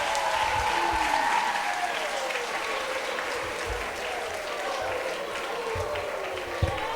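A large crowd claps and cheers in sustained applause at a children's missionary church celebration, a dense continuous wash of hands with a few sharper claps standing out.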